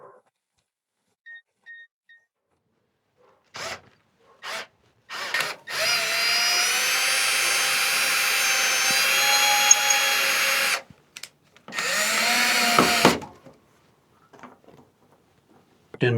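Cordless power drill driving screws to mount lights in a racing pigeon loft, two long whirring bursts of several seconds each, close and loud, with short taps and pauses between them.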